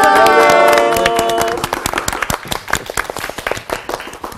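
Church congregation clapping at the start of a Bible study lecture on Exodus, with sustained layered tones fading in the first second and a half, then scattered sharp claps continuing fairly close.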